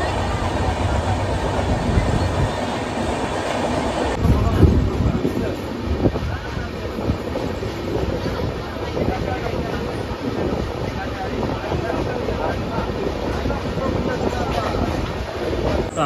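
The Kamrup Express general coach rolls along at speed, heard from the open carriage door. Steady loud rumble, rattling and heavy wind buffeting fill the whole stretch with no break.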